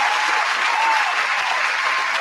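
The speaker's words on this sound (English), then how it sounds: "Oh, it's applause." Steady, dense applause from a crowd, loud and even for a couple of seconds with no clear pauses.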